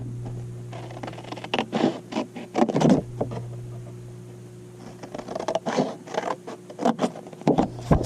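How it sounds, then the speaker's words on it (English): Scissors cut a V shape out of paper in a run of close, crisp snips and scraping strokes, with pauses between bursts over a low steady hum. "And with our scissors, I'm going to come in and cut that out."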